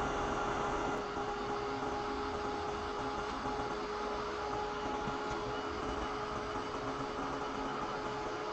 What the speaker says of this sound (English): So you want to get your dryer and dry those really quick.